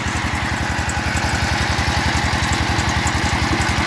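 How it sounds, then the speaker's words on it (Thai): The small engine of a water well drilling rig in Sangkha district, Surin, Thailand, chugs with a fast, even rhythm, loud and close, with no voices. "เก็บบรรยากาศการเจาะบาดาลนะครับ"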